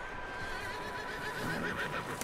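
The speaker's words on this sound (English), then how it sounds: "Did I just see a horse collapse up in the mountains?" A horse whinnies loudly and continuously in the video game Red Dead Redemption 2, set in a snowy mountain winter, with faint hoof clatter underneath and no voices.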